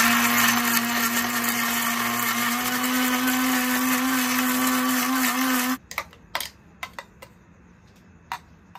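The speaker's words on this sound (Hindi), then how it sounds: "अभी मैं आपको नॉर्मल स्पीड वाली भी ग्राइंड करके दिखा देता हूँ" An Atomberg mixer grinder grinds chutney at normal speed with a loud, steady motor whine, then cuts off abruptly, leaving a few sharp clicks and knocks.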